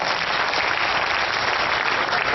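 Audience at a poetry performance bursting into strong, sustained applause, a dense even roar of many hands clapping together throughout, with no voices over it.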